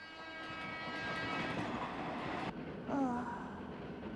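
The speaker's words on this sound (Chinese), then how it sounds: "就是那部电车" An electric commuter train in a Japanese animated series runs past, its loud rolling rumble and tonal horn-like hum swelling and then cutting off abruptly, followed by brief sliding tones.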